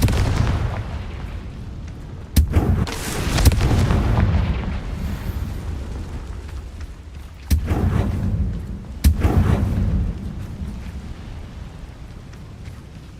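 In Hogwarts Legacy, Confringo blasting spells go off in several loud, booming explosions, each a sharp crack followed by a rumbling decay, spaced a few seconds apart over a low background rumble of game sound.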